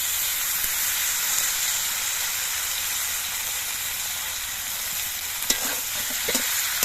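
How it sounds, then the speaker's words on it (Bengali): Mixed vegetables stir-fried with ground green chili, ginger, cumin paste and turmeric give a loud, dense, continuous sizzle close by, with a few sharp stirring knocks toward the end. "এবার সব কিছু দিয়ে নেড়ে করে সবজিগুলোকে আরও কিছুক্ষণ কষিয়ে নিতে হবে"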